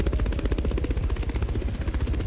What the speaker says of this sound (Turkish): helikopter kalkış yerinden pistinden kaldırıyoruz şöyle